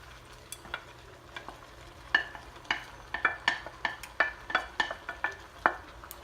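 Meat being stirred back into a pot of creamy cabbage soup, a utensil scraping and clinking in a steady run of sharp strokes that speed up toward the end, close and fairly loud over a faint sizzle.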